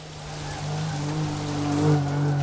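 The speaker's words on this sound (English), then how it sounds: "this simulator doesn't actually have rain. This is all modded." Modded rain in the Assetto Corsa racing simulator: a steady hiss of rain falling on a car, layered over a low, droning engine hum that swells slightly toward the end, with no talking.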